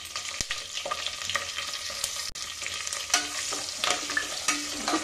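Garlic, dried red chili and broken bay leaf fry in hot oil with a steady, crackling sizzle, and a spoon stirs and scrapes the pan now and then. Nobody speaks.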